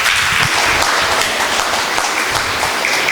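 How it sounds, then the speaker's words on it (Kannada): Church congregation clapping loudly in praise of God, a thick, sustained round of applause from many hands, close and continuous throughout. "ದೇವರಿಗೆ ಚಪ್ಪಾಳೆ ತಟ್ಟನ ಸ್ತೋತ್ರ ಸಲ್ಲಿಸ"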